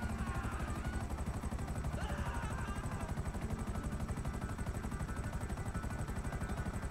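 Rapid missile and gun fire during a helicopter battle in GTA 5 Online, a steady fast mechanical pulse with a whirring rotor-like drone, constant and fairly faint throughout.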